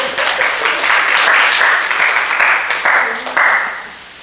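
A church congregation applauds warmly for several seconds with dense, steady clapping that fades out at the end, while a faint voice sounds underneath.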